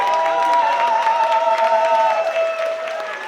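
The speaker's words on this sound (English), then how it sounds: "let's have one more round of applause for all of our great performers and songwriters" An awards-event audience gives a round of applause for performers and songwriters, a dense, steady wash of clapping and some cheering with a sustained tonal sound running beneath it.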